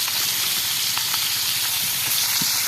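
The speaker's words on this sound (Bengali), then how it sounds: "কঠিন মাছ ভাজতে আছি।" Fish frying in oil over a wood-fired stove gives a steady, loud, broadband hiss and sizzle. It runs continuously throughout with only faint crackles and no talking.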